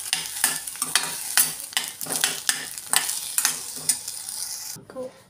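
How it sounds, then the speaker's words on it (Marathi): Pigeon pea pods (tur shenga) being stirred and dry-roasted in a pan, with a steady faint sizzle broken by repeated rhythmic scraping strokes of a spatula, close and clear, ending abruptly. "आता आपण या तुरीच्या शेंगा थोड्याशा परतून घेऊया, भाजून घेऊया."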